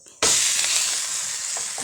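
Dosa batter hits a hot, oiled griddle with a sudden loud sizzle that holds steady and hissing, close and alone.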